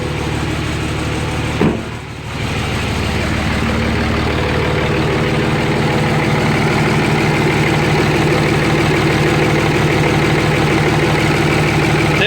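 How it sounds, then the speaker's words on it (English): A heavy Dodge Cummins diesel engine idles roughly, steadily and loudly up close, its low rumble continuous with a brief dip early on. "Notice it's kind of got a rough, kind of a rough idle to it"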